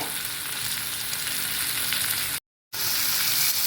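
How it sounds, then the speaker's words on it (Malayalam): Okra, green chili and onion sautéing with chili powder give a dense, steady close sizzle, broken once by a brief moment of complete silence before the hiss resumes at the same level. "കുറച്ച് മുളക് പൊടി ഇട്ട് കൊടുത്തു ഞാൻ നന്നായിട്ട് വഴന്ന് വരട്ടെ"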